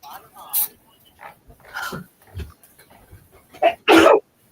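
A single loud, sharp sneeze bursts out near the end, following scattered talk and murmuring in a radio studio.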